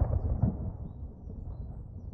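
Thunder from a storm gathering in a cartoon rolls as a low, muffled rumble, strongest at the start and then fading into a quieter, steady grumble.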